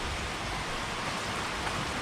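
Steady, dense rain pours down during a tropical storm in Naga City, Philippines, a constant close hiss of drops on surfaces with no letup and no voices.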